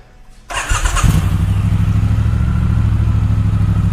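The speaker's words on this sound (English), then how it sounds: "Now we'll fire this bike up." A 2018 Triumph Speedmaster motorcycle engine cranks briefly and catches, then settles into a loud, steady, throbbing idle close by, with no talking.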